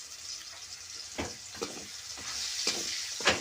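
Cumin seeds and turmeric hit hot oil for a tempering in an Indian kitchen while making dry okra stir-fry, giving a steady close sizzle with a few sharper crackling bursts and stirring.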